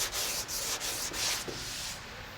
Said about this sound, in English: what we're going to do with this grid of paper is we're going to start to take that texture off